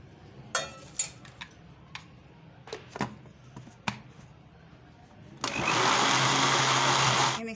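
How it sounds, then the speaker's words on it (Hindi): An electric mixer blends sugar for cake batter, starting abruptly after a few scattered clicks and taps and then whirring loudly and steadily for the last two seconds. "चीनी का मिक्सर इतना ब्लेंड हो गया है।"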